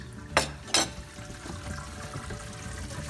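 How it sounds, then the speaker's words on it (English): Water drains from a filled bathroom sink through a p-trap under repair, a soft steady liquid rush and trickle with two sharp gurgling bursts near the start, quiet and close with no talk. "Now we have the sink filled up again, and let's go ahead and drain it for the second time."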